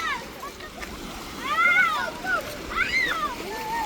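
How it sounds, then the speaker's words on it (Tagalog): Lake water at Bluffers Park in Scarborough splashes softly as people dip and wet their feet, with light, irregular sloshing under steady nearby conversation. "Nagbabasa ng mga paa nila."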